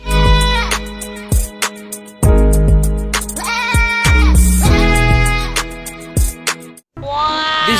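A toy goat gives a run of loud, close, wavering bleats, several in a row with short gaps between them.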